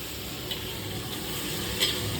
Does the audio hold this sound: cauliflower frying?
yes